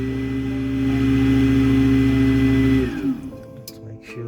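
A brand new Moen Prep garbage disposal hums with a loud, steady motor whine at close range for about three seconds, then winds down and stops.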